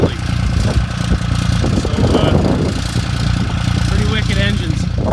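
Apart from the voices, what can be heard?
engine idling after cold start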